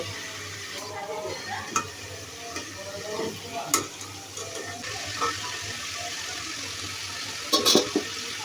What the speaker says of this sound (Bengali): উঠিয়ে বাকি মাছগুলিও ভেজে নেব